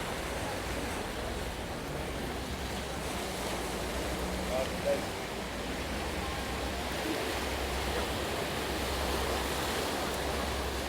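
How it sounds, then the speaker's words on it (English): Sea waves wash steadily along a seafront walkway in Lanzarote, Canary Islands. The surf makes a continuous broadband rush with a low rumble of wind, and no other sounds stand out. "Sea's looking lovely today."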